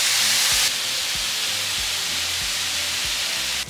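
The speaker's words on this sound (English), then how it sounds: "once our skillet is hot, we're going to throw in our meat. And now we're just going to cook it" Taco meat sizzles loudly and continuously in a hot skillet, a dense close hiss with low thumps and clatter scattered throughout, with no talking.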